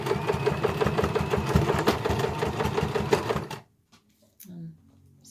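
A sewing machine runs rapid reverse stitches across a carry bag handle, a fast, close, rattling stitch rhythm for a few seconds before it stops and the room goes nearly quiet.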